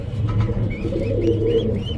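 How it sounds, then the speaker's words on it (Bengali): A Spanish pouter pigeon coos close by in a soft, low, rolling murmur, with faint chirps from other birds in the background. "কবুতর কিন্তু আপনার হচ্ছে ব্লুবার স্প্যানিশ পটার"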